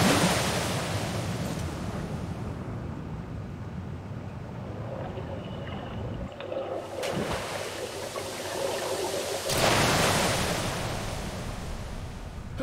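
Rushing river water roars continuously in Metro Last Light Redux, a loud, broad wash of surf-like noise with wind, shifting in intensity partway through and never pausing.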